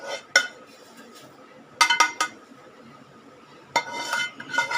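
Roasted semolina (rava) is moved from the pan onto a plate, giving scattered metallic clinks and scrapes of a spoon against cookware in a few short bursts, with quiet pauses between them.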